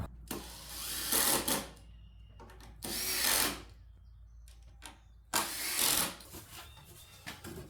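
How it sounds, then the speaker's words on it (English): A power drill driving screws into a wooden bench, three separate whirring bursts of a second or so each, the last one rising as the screw seats, with quiet gaps between. "I'll go ahead and send these screws home."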